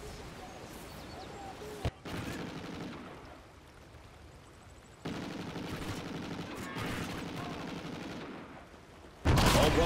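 Automatic gunfire crackles in a video game shooter, sustained bursts of rapid shots that start and stop abruptly, dense and close, with a louder burst at the end.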